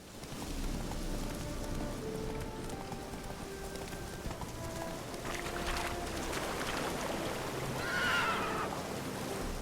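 Roach, the horse in The Witcher 3, whinnies near the end over a soft patter of rain and hooves clip-clopping along in the game world.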